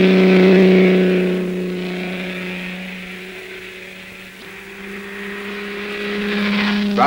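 A vintage racing car, in a 1960 VSCC event, howls past on its final lap, its engine note loud at first, fading away, then a second car approaching and swelling toward the end.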